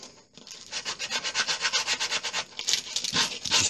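Worn sandpaper is rubbed back and forth over a window sill in quick, regular close strokes, a dry rasping scratch repeating about four times a second with no talk.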